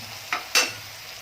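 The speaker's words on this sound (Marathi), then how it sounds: "कांदा आणि सिमला मिरची पूर्ण मौसर होईपर्यंत परतून घ्यायचं" Two quick scraping stirs in a pan over a low sizzle of onion and capsicum frying for pav bhaji, close by.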